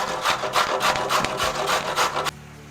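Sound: carrot being grated

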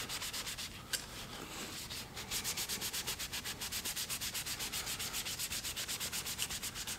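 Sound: scrubbing a car door handle with a cleaning towel

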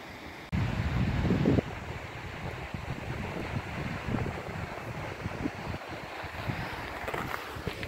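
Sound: mountain waterfall with wind

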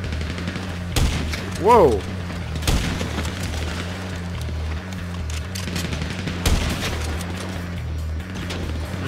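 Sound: gunfire from a .50 caliber weapon in GTA V video game

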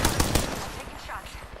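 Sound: gunfire in the video game Apex Legends

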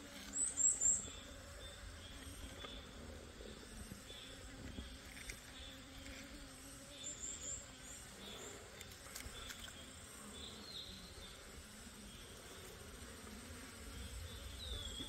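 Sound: native honeybees buzzing at a mountain beehive

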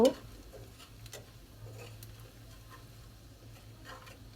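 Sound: spices being sautéed (koshano) in a pan

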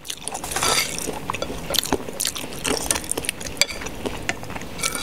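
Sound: chewing stewed chicken bones

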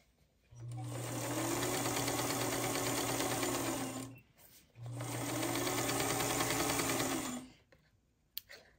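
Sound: sewing machine sewing a rectangle of fabric onto a quilt block

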